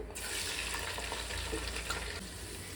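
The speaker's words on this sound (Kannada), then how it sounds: "ಸ್ಪೈಸಸ್ 2 ನಿಮಿಷ ಎಣ್ಣೆಯಲ್ಲಿ ಫ್ರೈ ಆದ ತಕ್ಷಣವೇ ಹಿಂದೆನೇ ಈರುಳ್ಳಿ ಮತ್ತು ಹಸಿಮೆಣಸಿಕಾಯಿ ಹಾಕೋತಾ ಇದ್ದೀನಿ." Onions and green chillies sizzling in hot oil in a kadai, with a steady, even crackling fry that continues unbroken throughout, close and moderately loud, with no talking.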